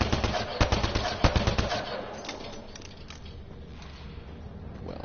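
Rapid bursts of machine gun fire in Mass Effect Andromeda, loud and sharp for the first couple of seconds, then giving way to a quieter ambient hum.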